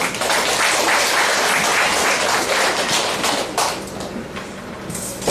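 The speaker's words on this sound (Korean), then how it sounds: "박수로 모시겠습니다." Applause from a crowd, a dense steady clatter of clapping that thins out slightly near the end.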